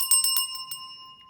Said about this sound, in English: I use bells when I'm cleansing a space or cleansing something.